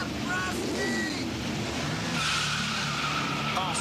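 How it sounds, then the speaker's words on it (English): Rusty Wallace's Genuine Draft NASCAR stock car screeches its tires in a sustained skid, a loud roaring slide with engine noise throughout, and a voice talks briefly over it. "Genuine draft Rusty Wallace stock car"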